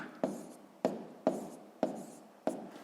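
Numbers written by hand on paper for a sixth-grade maths exercise, five quick close scratchy pen strokes spaced about half a second apart in a quiet room.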